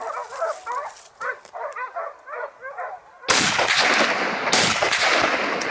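Several hunting dogs bark in quick repeated bursts at moderate distance during a wild boar hunt in Türkiye, then a loud sharp Huğlu Ovis shotgun blast and a second one follow, leaving a wash of noise.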